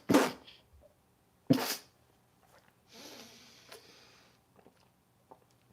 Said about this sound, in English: I'm going to be so glad when this cough is gone.